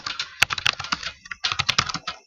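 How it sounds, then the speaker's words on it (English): Quick, irregular clatter of a computer keyboard being typed on in short bursts with brief pauses, close and fairly quiet, no voices. "I cannot type right now."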